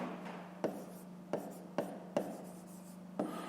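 A pen writes on paper while a maths exercise is worked out. Soft, steady scratching is broken by several light taps as the pen touches down, close and quiet.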